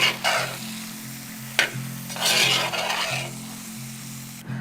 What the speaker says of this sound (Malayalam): കുറച്ച് കറിവേപ്പിലയും കൂടി ഒന്ന് ഇട്ട് കൊടുക്കും. നന്നായിട്ട് ഇനി ഒന്ന് ഇളക്കാം.